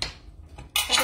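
A spoon scrapes and clinks against a pan while seasoned pineapple chicken is stirred, a short bright metallic scrape rising at the end, with no talking.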